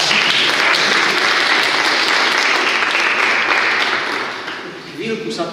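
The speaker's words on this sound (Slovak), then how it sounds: "páči sa mi ešte jeden potlesk pre teba" A seminar audience on rhetoric and negotiation applauds steadily in a room, the dense clapping staying loud throughout before easing slightly near the end.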